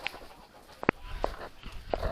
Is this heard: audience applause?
no